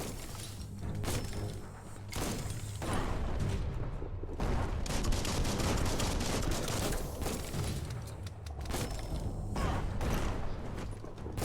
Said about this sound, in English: Boom. That's a bomb lobber.